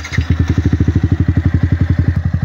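Yamaha R15 v3 motorcycle fitted with an Akrapovic M1 exhaust, no resonator in the elbow and a stock ECU, firing up into a deep, bassy, steady idle with a rapid even thump of exhaust pulses, close and loud, with no talk.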